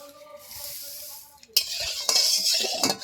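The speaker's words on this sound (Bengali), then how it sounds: "মা আগে মাংসের আলুগুলো ভেজে নেবে" Potatoes for a meat curry fry in oil, first with a softer simmering hiss, then louder sizzling with scraping and clattering of a spatula against the pan, close by.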